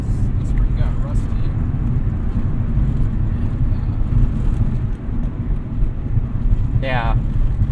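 Inside a BMW E36 328i on the move, a loud, steady engine and road drone fills the cabin, with faint rattles and brief bits of people talking.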